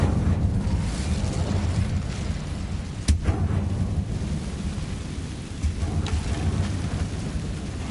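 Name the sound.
Incendio fire spell cast in Hogwarts Legacy video game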